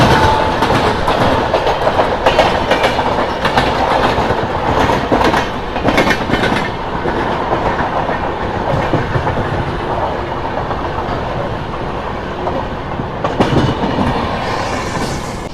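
The Charminar SF Express, running from Chennai Beach toward Hyderabad, rolls along at speed with a loud, steady rumble, rhythmic clickety-clack of the wheels over rail joints, and occasional sharper rattles heard from aboard.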